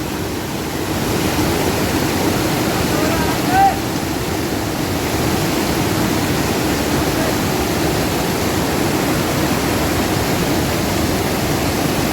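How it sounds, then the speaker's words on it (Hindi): A dangerous waterfall on a mountain footpath between Gangotri and Kedarnath, a steady loud roar of rushing water filling the whole span with no break, broadband and constant. "ये खतरनाक झरना।"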